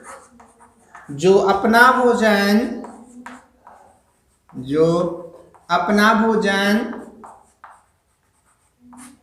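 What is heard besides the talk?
writing on a board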